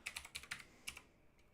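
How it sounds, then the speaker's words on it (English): Computer keyboard keys are tapped in a quick burst of about eight close, crisp clicks, fairly quiet and alone, ending after a short pause with one faint final tap. "I was typing something unrelated."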